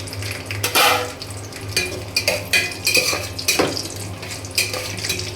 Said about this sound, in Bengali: কিশমিশ কাজু বাদাম ভালো করে ভাজি করা হয়ে গিয়েছে।